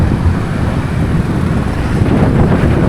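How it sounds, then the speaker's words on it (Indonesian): Strong headwind buffets the microphone during a road bike ride toward Bekasi, a loud continuous low roar with gusty surges and no talk. "hari ini baliknya lawannya angin kencang banget"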